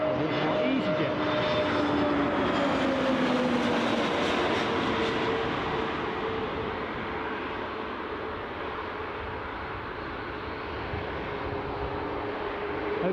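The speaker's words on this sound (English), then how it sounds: "Oh, here's my EasyJet." An easyJet airliner passes at Newcastle airport, a loud sustained jet roar with shifting engine tones that swells early and stays strong throughout, with occasional voices underneath.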